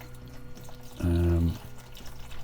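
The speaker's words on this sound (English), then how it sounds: "So I will water now from, I'll just tip it down there." Rainwater tipped from a jug onto potted chilli seedlings makes a short, loud pouring gush of about half a second that stands out against quiet background noise.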